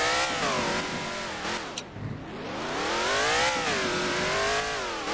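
Car engine in the Roblox game Driving Empire revving up and down continuously, a loud steady whine that dips and climbs as the vehicle drives, with no talking.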